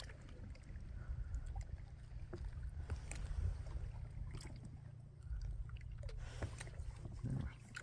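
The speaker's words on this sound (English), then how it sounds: "One-handed paddling along." Small boat paddled one-handed on Powell Lake, soft intermittent paddle dips and water swishes over a low, steady rumble of wind and water, quiet and fairly close.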